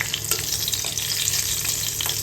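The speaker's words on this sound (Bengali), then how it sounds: "তেলের পরে দিয়ে দিলাম দুটো শুকনো লঙ্কা" Dried red chillies, split in half, fry in hot oil for an ilish macher jhol, giving a steady close crackling sizzle with faint stirring scrapes throughout.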